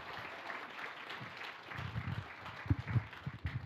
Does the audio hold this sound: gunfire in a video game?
no